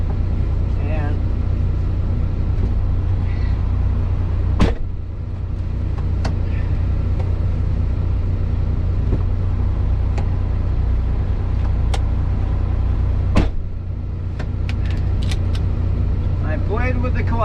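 Vehicle engine droning and revving steadily while rocking back and forth stuck in ice with differentials and axles locked, loud and continuous, with someone talking over it and occasional sharp clicks and knocks.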